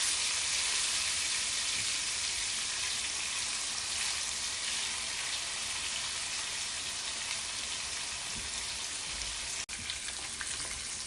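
Fish sizzles vigorously in hot oil in a pan while being fried for a Bangladeshi fish bhuna. A loud, continuous crackling hiss holds steady throughout, with no talking over it.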